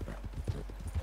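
Horse hooves clip-clop in a quick, even rhythm in the video game Red Dead Redemption 2, several close steps at moderate level with no talk over them.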